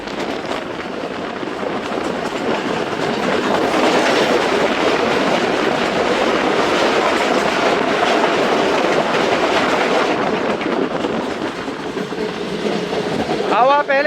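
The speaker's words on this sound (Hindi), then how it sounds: "सामने से आ रही है 12 डाउन हज़ारा एक्सप्रेस HGMU 30 के साथ।" Hazara Express, 12 Down, hauled by an HGMU 30 diesel locomotive, passes close by with a loud, continuous rumble and clattering wheels that holds steady for most of the stretch, with a brief squeal near the end.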